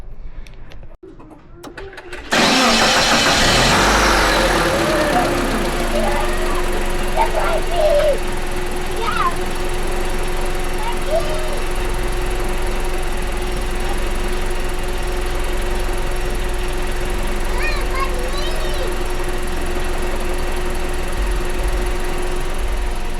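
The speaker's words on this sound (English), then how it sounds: "So let's give the car the first start and see how it" Mitsubishi Pajero iO engine cranking and catching after a service, then settling into a steady, even idle with a constant hum, close by, with birds chirping faintly and occasional voices in the background.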